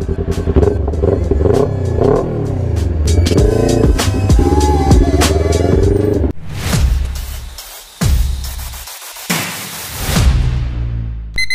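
A Kawasaki Ninja 400 motorcycle engine revving up and down in repeated loud, close bursts, with rising and falling pitch between short pauses.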